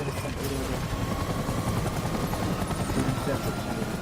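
A military helicopter flies over a Vietnam War-style battlefield in Death Stranding, its rotor drone loud, steady and continuous throughout, with gunfire faintly in the mix.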